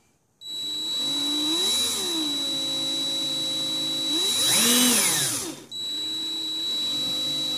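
A DeWalt 20-volt max cordless drill spins up and runs steadily at close range with a high whine, ramps up in speed near the middle, briefly cuts out, then starts running again.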